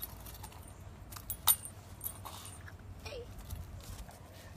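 A ring of keys jingles in a few quick metallic shakes over a quiet outdoor background, with faint shuffling and distant animal movement.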